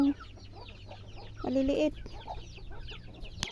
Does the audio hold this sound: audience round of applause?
no